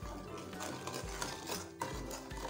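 Turmeric and salt are stirred into a masala in a pan, making soft repeated scraping and clinking of a spoon against metal over a low background hum, fairly faint.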